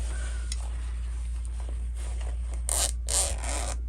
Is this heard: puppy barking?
no